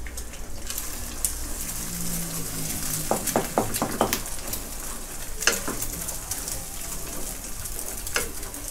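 Eggs sizzle steadily in a pan with luffa, a constant bright frying hiss broken by a cluster of clicking utensil scrapes and taps partway through, close and fairly loud.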